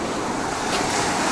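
Sea surf breaks and washes along a beach in the Oba district of Alanya, Turkey, a steady broadband roar of waves with some wind noise, close and fairly loud, no voices.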